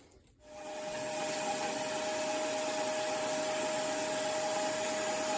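A turbine paint sprayer (HVLP turbine system needing no compressor) for applying clear coat on a car fender starts up and then runs at a steady loud whine with airy hiss, continuous and nearby with no talk.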